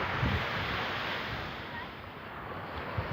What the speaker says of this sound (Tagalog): Ayan ang lugar, ayan ang beach, oh.